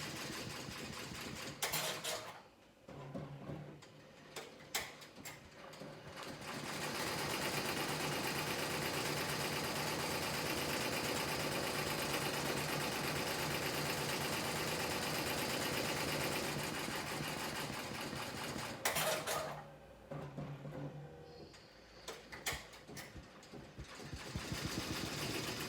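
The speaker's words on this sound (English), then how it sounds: "it's starting the satin stitch" A 15-needle embroidery machine stitching a satin stitch on appliqué work, a steady fast mechanical whir and rapid needle chatter running continuously for many seconds, with short stops and starts at the beginning and end.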